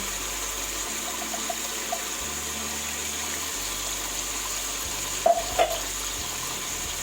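Meat frying in a pot after onion and garlic paste is added, a low steady sizzle and hiss running throughout with a couple of brief clinks near the end, moderately quiet and with no talking.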